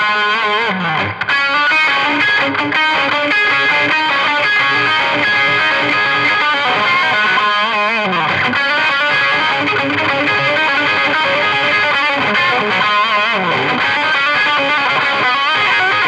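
A lick played on a heavily distorted electric guitar, a continuous run of fast, bending notes with no gaps, loud and up close with no voices over it.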